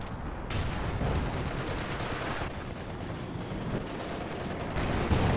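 Continuous artillery barrage and rattling gunfire in Company of Heroes 2, dense overlapping bursts and booms forming a steady battlefield roar with no clear gaps, heard alone.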